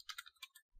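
Quick keyboard typing on a computer during a Kali Linux terminal session, a short run of about six soft, close keystroke clicks in uneven rhythm, quiet and alone.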